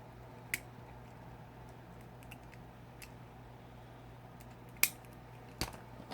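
Pliers bending and cutting wire, quiet except for three short, crisp snips, the sharpest near the end, over a low steady hum.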